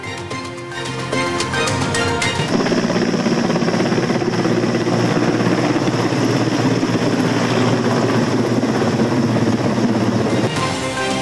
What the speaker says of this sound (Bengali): পানি ছিটাচ্ছে হেলিকপ্টার